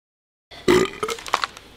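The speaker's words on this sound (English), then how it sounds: "Seriously, burping" A single loud, throaty burp bursts out after half a second of silence, then trails off into a few quieter gurgling bits.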